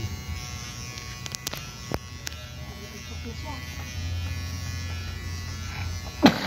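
Electric hair clippers buzz softly while shaving a head, with intermittent clicks, and people talk over the buzzing.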